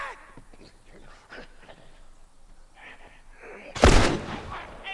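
A single loud gunshot rings out in The Last of Us, sharp and booming after a few seconds of quieter game ambience and faint talk.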